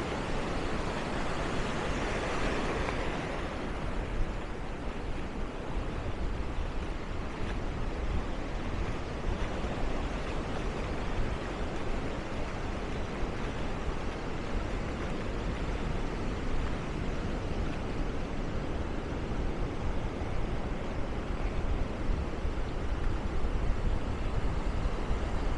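Ocean waves at the beach in Maspalomas, Gran Canaria: a steady, broad wash of surf rushing in and out without pause, with no voices heard.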